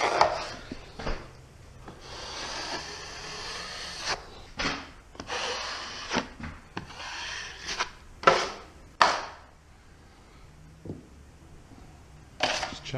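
A 12-inch taping knife spreads joint compound over a drywall tape joint, giving repeated scraping swipes and soft knocks in an irregular rhythm, close and fairly loud, with no one talking.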